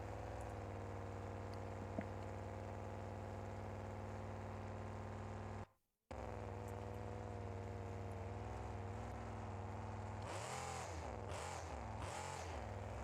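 A drag racing engine in BeamNG.Drive, fitted with a ProCharger supercharger, holds a loud, steady high-pitched drone. It cuts out briefly, then returns and rises into sharp revving surges near the end.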